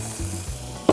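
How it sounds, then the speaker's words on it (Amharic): Butter sizzles and melts steadily in a hot pan, a close, continuous frying hiss with a brief louder crackle at the end, with no talking. "ቅቤ ከጨመርን በኋላ"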